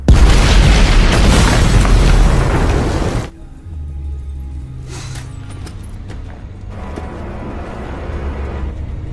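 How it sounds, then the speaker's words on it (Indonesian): A large explosion in a crime film as police open a door to a basement: a massive, roaring boom fills the first three seconds, then cuts to a quieter low rumble with scattered debris-like sounds. "sebuah ledakan besar terjadi"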